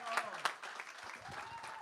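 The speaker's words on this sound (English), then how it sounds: "Clap for Carl one more time," A breakfast crowd at a community partnership gathering claps for Carl, quiet scattered applause with a few sharper claps standing out, voices murmuring underneath.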